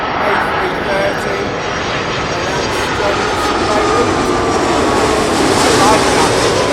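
A Middle East Airlines Airbus A330 widebody jet roars steadily and loudly throughout, a broad continuous engine rumble with a slight swell near the end.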